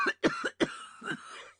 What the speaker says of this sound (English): A terrible hollow cough interrupted her words.